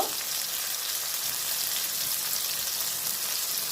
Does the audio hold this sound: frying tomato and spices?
yes